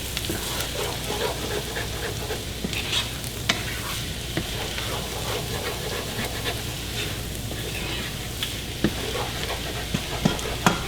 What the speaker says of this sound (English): just scramble them around just to break up those yolks and start cooking them a little bit